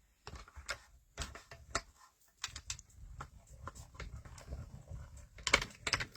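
Scissors cut out a paper butterfly tag, giving quiet, close, irregular snips and crisp paper rustles in short clusters with brief pauses between.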